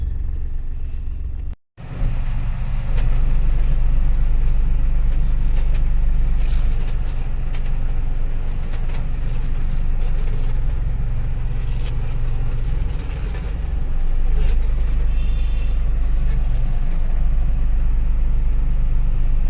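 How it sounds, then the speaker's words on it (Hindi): A Mahindra Bolero pulls forward in first gear as the clutch is slowly released, a steady low engine rumble and road noise that run continuously after a brief dropout near the start. "गाड़ी आगे की तरफ जाएगा"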